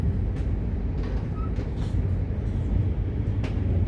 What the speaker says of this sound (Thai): ตอนนี้กำลังนั่งรถไฟไปซันบุรีเนาะ